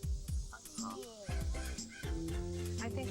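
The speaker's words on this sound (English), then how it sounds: "this is your little puppy" A little puppy in a Nick Jr. commercial gives several short yips and barks, brief and close, mixed in with background music.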